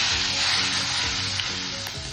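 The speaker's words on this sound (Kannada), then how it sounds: "ಕರಿಬೇವಿನ ಸೊಪ್ಪು, ಈರುಳ್ಳಿ ಚೆನ್ನಾಗಿ ಹುರ್ಕೊಳ್ಳೋಣ" Curry leaves and onion frying in a pan for Bombay chutney, a steady close bright sizzle with soft stirring scrapes throughout.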